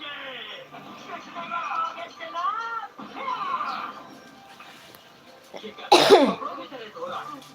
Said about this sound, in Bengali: তো কাশি হয়েছে খালি গলা ফুসফুস ফুসফুস করছে